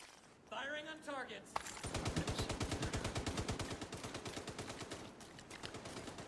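Rapid automatic gunfire from a GR9 machine gun in a video game, a long steady burst of evenly spaced shots fired while defending a settlement, following a brief spoken line at the start.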